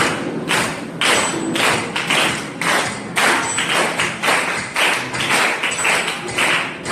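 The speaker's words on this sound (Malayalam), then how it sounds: "ഇതിന്റെ കൂടെ ക്ലാപ്പ് ചെയ്യാൻ പറ്റുമോ?" Steady hand claps keeping time during a rhythm lesson, about ten sharp claps spaced evenly over several seconds, fairly close and alone without talk.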